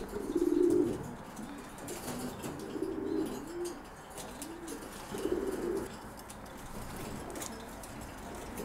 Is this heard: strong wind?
no